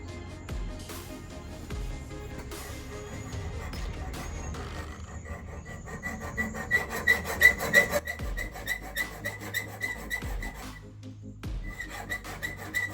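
Steel piece being worked off by hand with hand tools during a garage rack install, a steady rasping, filing rub with rhythmic scraping strokes that grow louder and more regular midway, close up with no talk.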